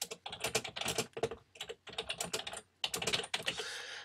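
Rapid, close clicking of keys on a computer keyboard as text is typed, in quick uneven bursts with brief pauses.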